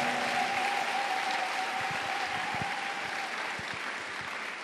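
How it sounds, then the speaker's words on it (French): Church congregation clapping in praise, a steady dense wash of many hands with a faint sustained tone beneath, fairly distant and even throughout. "Oh, let us clap for the Lord Jesus."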